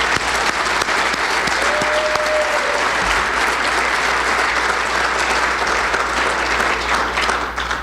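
Loud, sustained applause from the crowd at a community awards dinner, dense and continuous for about eight seconds with a brief vocal tone near the start.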